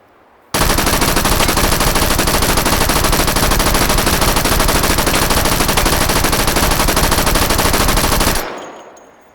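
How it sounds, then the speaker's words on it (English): Tommy gun with a 100-round drum magazine firing in Battlefield 1, one loud unbroken burst of rapid automatic fire lasting about eight seconds before cutting off into a fading echo. "Now this looks like a proper Tommy gun, worthy of Al Capone and Machine Gun Kelly."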